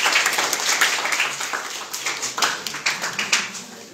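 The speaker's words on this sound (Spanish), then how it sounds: "les pido un aplauso para el grupo número 4." Applause for group number 4 at a school activity: a small group claps quickly and unevenly, close by and fairly loud, the claps thinning slightly toward the end.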